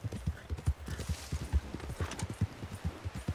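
Horse hooves clip-clopping steadily on a trail in Red Dead Online, a rapid, even rhythm of close, distinct hoof strikes continuing throughout, with faint background ambience.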